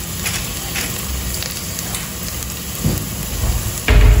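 Food browning in a pan while caldo verde is cooked, a steady close hiss and crackle of sizzling oil, with a couple of louder thumps near the end and no talk.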